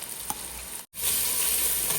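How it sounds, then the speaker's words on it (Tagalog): Tomato paste sautéing in a pan makes a close, steady sizzle and bubbling hiss, broken by one brief dropout near the middle before the frying noise returns a little louder. "kailangan daw natin igisa yung tomato paste para lumabas yung lycopene"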